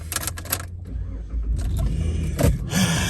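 A car called Liberty gets moved over to be parked, its engine and road noise holding steady and close at moderate loudness, with a brief jangle of keys and a few mechanical clicks along the way.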